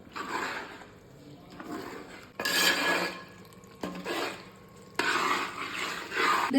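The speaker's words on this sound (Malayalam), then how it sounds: "ഇനി നമ്മുടെ അമ്മാമ്മ സ്പെഷ്യൽ മസാലപ്പൊടി ഇത് നല്ലപോലെ നമുക്ക് വഴറ്റാം" A spatula scrapes and clinks against a pan as masala powder is stirred into sautéed ginger and garlic for a homemade pickle, in several separate bursts of scraping with short pauses between, close and moderately loud.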